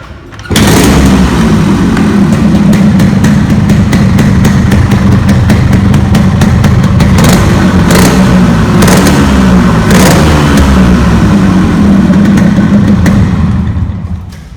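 A Yamaha RX King two-stroke motorcycle engine runs steadily and loudly close up, with a raspy, rattling idle and occasional revs, and no voices over it.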